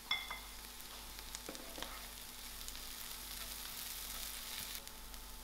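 Spices and a pea filling for stuffed parathas frying quietly in a pan, a faint steady sizzle with a couple of soft mixing scrapes.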